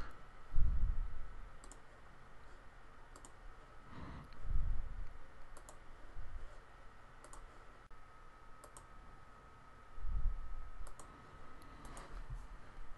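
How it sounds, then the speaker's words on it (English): A computer mouse clicks a few times while working in an Excel spreadsheet, producing soft, close, isolated clicks spaced several seconds apart over a quiet background hum. "So I'm going to click and click new"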